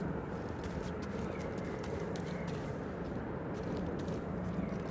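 Space goats running in Star Wars Jedi: Fallen Order, a steady, dense patter of hoof-like clip-clop footfalls over a continuous rumbling game background, with no talk.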